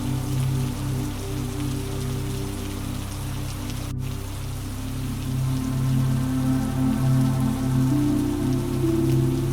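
Steady rain drips and patters on leaves in the Aokigahara forest in Japan, a continuous close wash of drops over a low constant hum, with no voices.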